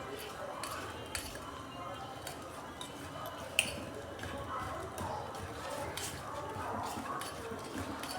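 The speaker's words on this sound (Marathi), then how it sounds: "आता हे मी पूर्ण दूध टाकून घेतलं आहे आणि हे मिश्रण चांगलं मिक्स करून घेणार आहे" A spoon stirs biscuit-and-milk chocolate cake batter in a bowl, with soft repeated scraping and occasional light clinks against the bowl running steadily while someone talks over it.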